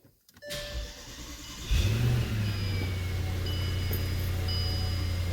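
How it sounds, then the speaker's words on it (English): A Bentley is started in a garage ahead of a brake replacement: a click and whirring crank, then the engine catches with a low rumble and settles into a steady idle. "So that involves starting the car"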